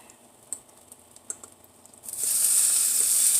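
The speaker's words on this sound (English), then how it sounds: "I'm going to heat up my onions." Leftover cooked onions go into a hot pan. After a few faint clicks and taps, a loud, bright sizzle bursts in and holds steady until the end.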